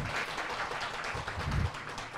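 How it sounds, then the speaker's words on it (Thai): Sparse applause from a seminar audience, a light spread of claps at moderate distance, swelling briefly toward the end of the short burst. "คุณแยมอาจปรบมือสักนิดหนึ่งค่ะ"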